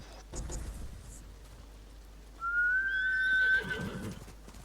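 A horse named Nobu in the video game Ghost of Tsushima gives a loud, rising whinny with a shaky trailing end, lasting about a second over a soft, steady rain-like background hiss.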